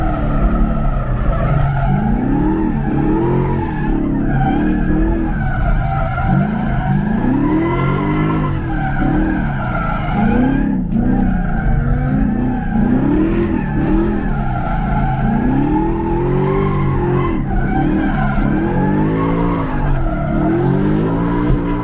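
Car drifting through a course at a fall drift event, tires squealing in long wavering skids over a loud revving engine that rises and falls in repeated swoops, close and continuous with no voices.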